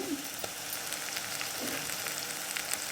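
Onions fry in a pan for ridge gourd curry, giving a steady, close sizzle with light crackles and a few faint stirring knocks, with no voices.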